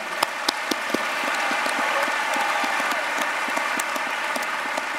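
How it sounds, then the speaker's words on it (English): Dense, steady applause from a large audience at a school district convocation filling the room, with a few sharper individual claps standing out. "Let's give him another round of applause."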